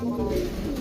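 A pigeon coos briefly up close, a soft low throaty murmur lasting under a second.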